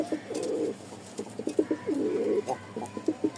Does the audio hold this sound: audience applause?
no